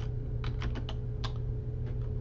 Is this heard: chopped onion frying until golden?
no